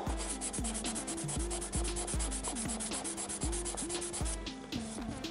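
Hand sanding of an Audi R8's paint with 800-grit paper, close and steady back-and-forth rubbing strokes in a quick, even rhythm, continuing alone without talk.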